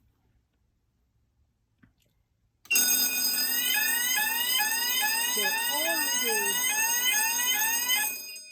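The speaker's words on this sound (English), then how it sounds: "so this detector is going to go into alarm." A Select Series fire alarm panel goes into alarm during a detector test: a loud, steady electronic tone with a sweeping whoop starts abruptly and keeps going for over five seconds. A brief word is spoken just before it.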